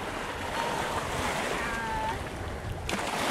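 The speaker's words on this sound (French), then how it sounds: "là où les vagues lèchent le sable." Waves lap the sand along a crowded New Jersey beach during the annual horseshoe crab count, a steady washing surf with wind noise throughout and a faint higher tone drifting through the middle.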